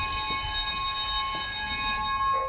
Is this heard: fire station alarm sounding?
yes